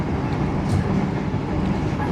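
Menoreh passenger train rolling along the rails, a steady broadband rumble with dense low-end clatter held at constant loudness from start to finish, heard from on board.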